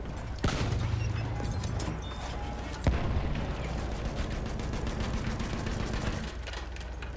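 Gunfire crackles through a Battlefield 1 battle on a crowded ridge, with a dense, continuous bed of shots and sharp bursts around one and three seconds, loud and steady without letup.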